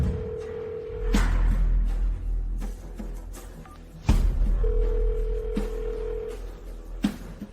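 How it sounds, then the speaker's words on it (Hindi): A telephone call is dialed, then long steady ring tones sound twice, broken by sharp knocks and clicks against a quiet background. "मैं अभी उसे फोन करती हूँ।"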